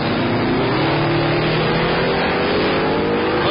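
A Camaro drag racing at Hot Rod Drag Week in Tulsa, Oklahoma, its engine roaring loud and steady at full throttle down the strip, with no talk over it.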